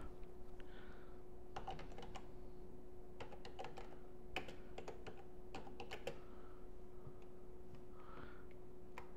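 Computer keyboard typing, quiet scattered clicks in short bursts and single taps over a faint steady hum, close by with no voices.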